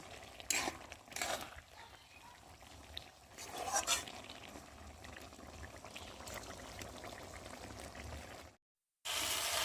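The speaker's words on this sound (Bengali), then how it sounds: "ঝোলের সাথে একটু ভালো করে ফুটিয়ে নেব" Fish curry with gravy bubbling in a pan while cooking Bengali chachchari of small fish with raw tomato, a steady close simmer with brief louder stirring bursts, ending in a short silence.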